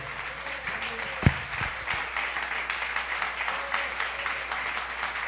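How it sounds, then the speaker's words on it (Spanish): A church congregation applauds during a Sunday morning sermon, a steady wash of clapping across the whole span with one sharp knock near the start. "¿Cuántos podemos dar un aplauso al nombre de Dios por eso?"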